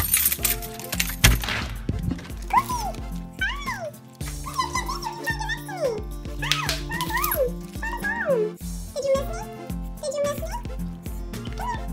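A dog whines and cries in high, wavering yelps over music, with several rising and falling whimpers close by.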